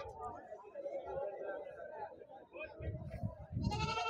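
Goats bleat at a weekly Saturday livestock market in Dubbaka, Telangana, with black goats and kids among the herd; several bleats rise over a steady murmur of crowd chatter and nearby talk.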